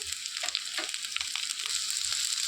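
Thinly sliced capsicum pieces frying in a pan for Hyderabadi veg dum biryani make a constant bright hiss, broken by a few light stirring scrapes.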